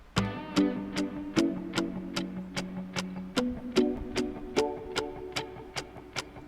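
A clock ticks steadily inside a music production, with sharp evenly spaced clicks running through the whole passage over a sustained synth pad whose chords shift underneath.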